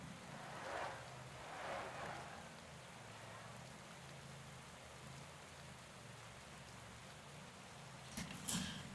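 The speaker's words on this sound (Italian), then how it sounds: "Diluvia proprio." Heavy rain in the Pro Cycling Manager cycling game, a dense, steady hiss of downpour throughout with a few swelling gusts early on and a brief clatter near the end.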